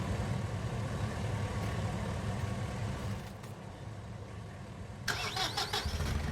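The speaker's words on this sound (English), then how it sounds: "let's go ahead and start the truck" A pickup truck engine cranks and catches in Farming Simulator 19, settling into a steady mid-pitched idle. A sharper mechanical rattle then cuts in near the end.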